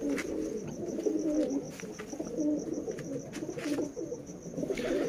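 Pigeons in Lahore coo steadily in low, throaty rolling calls while eating grain, with a few faint chirps and clicks in the background; no talking.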